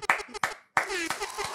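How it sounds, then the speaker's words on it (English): Hands clap in a few sharp bursts separated by brief pauses, close and moderately loud, with voices talking between and over the claps. "Let's clap it up, man. We gonna keep these claps on."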